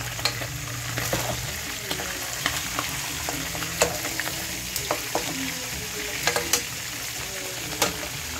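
Turkey pieces browning golden in a pan, giving a steady low sizzle with scattered crackles and light scrapes of stirring throughout, close and moderately loud with no talking.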